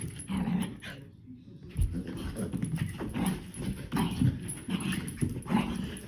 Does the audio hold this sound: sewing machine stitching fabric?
no